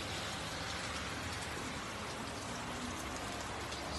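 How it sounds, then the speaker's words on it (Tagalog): Rain falls steadily outdoors in Okinawa, a dense, constant hiss of drops without pause, moderately loud and with no voices. "Ay, ay, umuulan."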